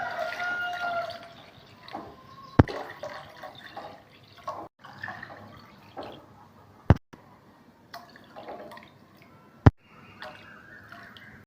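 Water runs and splashes intermittently into a cooking pot while making rava pongal, with scattered drips, clinks and sharp knocks of utensils in a quiet kitchen.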